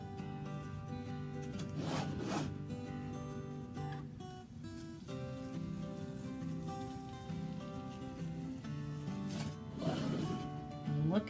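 A Chalk Couture transfer sheet is slowly peeled off a surface, giving soft, faint rubbing and crackling with a couple of brief louder tearing rasps, under quiet background music.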